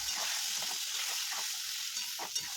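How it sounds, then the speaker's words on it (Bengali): Potatoes frying in a pan with salt and turmeric, a steady close sizzle broken by the soft scrape of repeated stirring, with no voices. "আলুগুলো দেওয়ার পর তার মধ্যে আমরা দিচ্ছি 1 চামচ লবণ"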